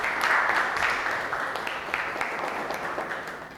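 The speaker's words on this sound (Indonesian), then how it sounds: "Oke, tepuk tangan dulu untuk Cahyo." A classroom breaks into applause for a student, a dense patter of many hands clapping at once, loudest at the start and tapering slightly.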